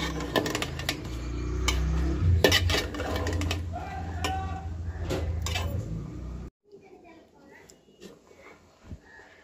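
A pot of tomato chili sauce is stirred and covered, with metal utensil scrapes and clinks against cookware, then a lid set on, followed by quieter kitchen handling sounds.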